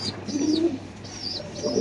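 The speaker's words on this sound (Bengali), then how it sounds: "বাঘা কবুতর বাচ্চারে খাওয়াচ্ছে" Pigeons coo in low, soft rolling phrases while feeding their chicks, with faint high squeaks over them, close by and steady for about two seconds.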